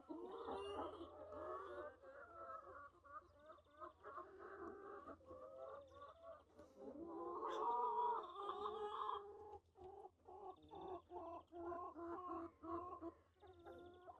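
Several chickens let out into a farmyard cluck and murmur nearby, a busy, overlapping chatter with a brief louder squawk in the middle.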